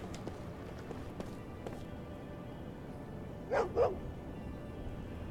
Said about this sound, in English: There's a doggo.